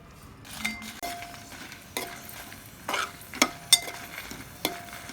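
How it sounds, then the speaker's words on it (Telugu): Fifteen dried red chillies fry in a ladle of oil in a pan, with soft sizzling under intermittent stirring and clinks of a ladle against the metal, a few sharper scrapes standing out near the end. "ఈ కలర్ వచ్చేంత వరకు ఇవి వేపుకోవాలండి"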